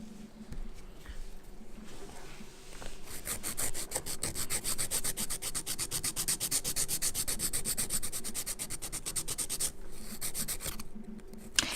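Fingernails being buffed and filed during a manicure, a steady rapid rasping rub that starts softly, then grows louder and continuous for most of the stretch before stopping near the end.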